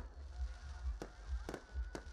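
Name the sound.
fireworks display at New Year festival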